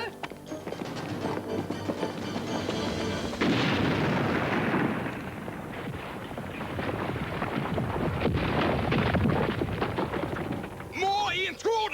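A grenade goes off in an animated adventure cartoon, a loud sustained blast and rumble of debris filling the scene, with frantic voices heard around it and a brief lull before a final burst.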